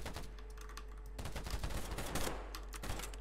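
Glock pistol shots in the shooter game Polygon, fired as quick taps amid dense, noisy in-game combat, a close, steady barrage of cracks with no speech.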